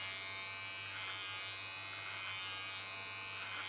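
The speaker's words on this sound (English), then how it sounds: "Guide the hairs into my clipper and connect them to the line of cutting." Electric hair clipper buzzing steadily and close up while cutting silver-gray hair into a short pixie style, a constant mains-like hum with no breaks and no talking.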